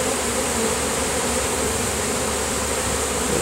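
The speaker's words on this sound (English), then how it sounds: "look at all these bees" Bees swarming around a hive inside a brick column produce a loud, continuous, even buzz that fills the whole stretch without letup and is heard alone, close by.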